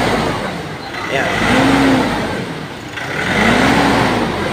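A Nissan YD25 DDTI 2.5-liter turbodiesel pickup engine runs with a steady mid-range drone that swells twice, while people talk nearby.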